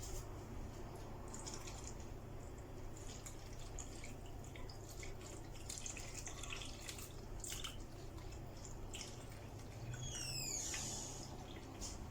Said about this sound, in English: So I'm just going to slowly fill up these ice cube trays.